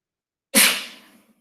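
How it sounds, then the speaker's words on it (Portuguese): A lecturer sneezes once, a sharp loud burst that tails off quickly, alone with no talk around it. "não deu para tirar o áudio para espirrar"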